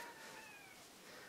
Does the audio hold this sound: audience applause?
no